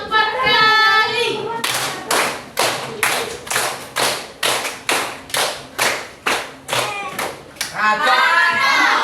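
A classroom of students claps hands together in a steady rhythm, a dozen sharp, evenly spaced claps, with a teacher's voice speaking before and after.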